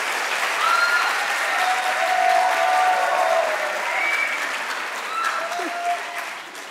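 Studio audience applause on a Hindi-language cooking show, a broad sustained clapping roar that holds steady then tapers off, with scattered cheers and whoops rising above it.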